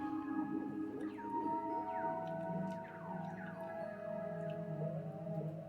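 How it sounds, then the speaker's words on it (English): Laser-like pings made by tweaking a delay effect repeat throughout: quiet, bright tones that slide downward in pitch and echo over a soft sustained synth bed. "tweaked the delay to create those crazy delay laser ping sounds"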